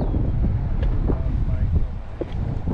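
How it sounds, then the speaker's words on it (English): Wind gusts across the microphone on a fishing boat off Grand Isle, Louisiana, a steady low rumbling buffet with faint voices briefly underneath. "A bit windy today."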